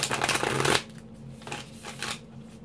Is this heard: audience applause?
no